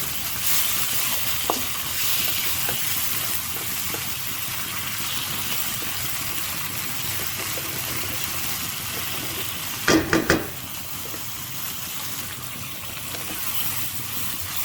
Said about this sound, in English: And just cook it for 2 to 3 minutes until the oil gets separate.